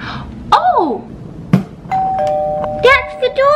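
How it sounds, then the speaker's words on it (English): A doorbell rings in a home with a baby-doll play setup, two-tone chimes sounding clearly, one early and another later, amid excited talk nearby. "That's the doorbell."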